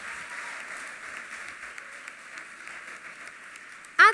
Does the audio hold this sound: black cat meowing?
no